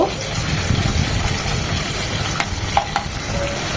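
Strips of chicken breast frying with onion in oil, a close, busy sizzle broken by the scrape and clatter of stirring and a few sharp spatula knocks, with no voices.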